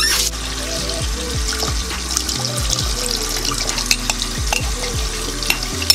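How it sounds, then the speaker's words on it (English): Water being stirred into shave powder to form a thick toothpaste-like depilatory paste, giving close, steady wet scraping and squelching with repeated sweeping strokes throughout, no talk. "Mix the water in with the powder until it becomes a toothpaste type consistency."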